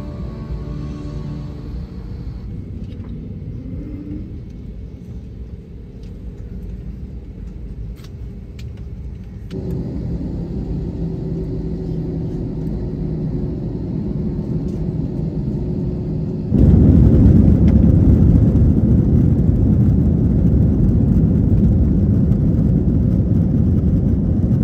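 Inside the cabin of a Delta Airlines A321, the jet engines rumble steadily and build in stages, then surge into a loud, dense roar for the takeoff run.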